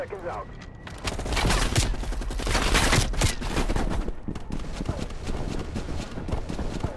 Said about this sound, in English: The firing rate is just too much